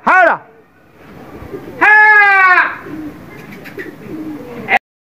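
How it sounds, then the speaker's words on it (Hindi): Pigeons cooing close by in a pigeon-keeping setting, with a loud burst of calls at the start, another strong stretch of cooing in the middle, then softer calls and background birds. "भाई का कबूतर, लग चुके हैं फिर से हमारे साथ"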